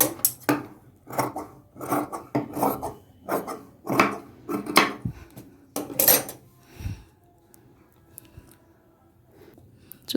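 Scissors cut spare blouse cloth in a straight line: a run of crisp, close snips in an uneven rhythm that stops partway through, leaving faint rustling.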